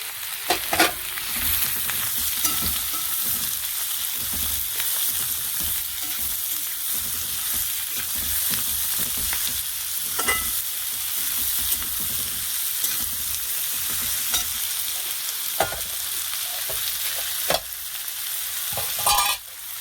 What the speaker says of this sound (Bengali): এবার মাশরুমটা ভেজে নেব।